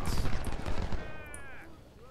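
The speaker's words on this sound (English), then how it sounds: "Firing on the ironclads." Cannon fire and rifle volleys against ironclads in the Ultimate General: Civil War strategy game: a loud burst of rapid overlapping gunshots and booms, then a rising whistle fading away, with no talking.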